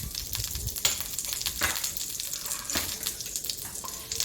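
Whole cumin seeds crackle and sizzle in hot mustard oil, a steady close hiss with sharp little pops scattered throughout, carrying on without pause and with no voices.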